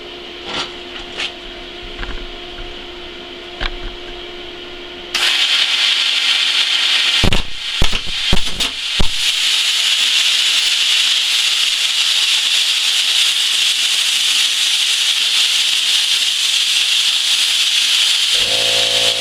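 A Cut 50 plasma cutter set to 40 amps hisses loudly and steadily for a long stretch after a quiet start, with a few sharp crackles and pops early in the cut; no one speaks.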